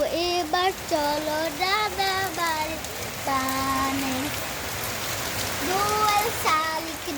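Steady rain falls in Master Lutfur Rahman park, a constant soft hiss of drops running under a clear singing voice.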